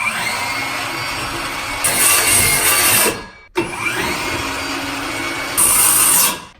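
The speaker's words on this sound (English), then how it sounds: "I'm going to take my skill saw and we're going to cut this out." Skil circular saw cutting wood for an attic ladder opening, two loud sustained cutting passes separated by a brief pause, each ending with the motor winding down.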